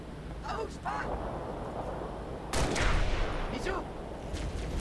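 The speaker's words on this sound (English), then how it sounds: "As soon as I hear firing, I back up." Gunfire crackles in the Halo Reach video game: bursts of rapid automatic shots and a louder volley midway, fairly close, over a steady background rumble.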